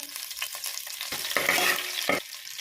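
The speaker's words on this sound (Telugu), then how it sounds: "అలాగే 1/2 స్పూన్ వరకు షాయి జీరా, అలాగే కొన్ని పుదీనా ఆకులు" Shahi jeera and mint leaves hitting hot ghee and oil in a pot, a close sizzle swelling into bursts of spattering, with a few stirring scrapes and clinks.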